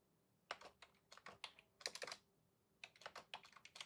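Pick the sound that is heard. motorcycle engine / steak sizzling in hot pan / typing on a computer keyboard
typing on a computer keyboard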